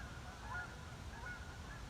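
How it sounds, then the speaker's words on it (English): A flock of geese passing overhead gives a faint, continuous chorus of distant honking, steady and low in level against an outdoor background with no talk. "A bunch of geese flying over."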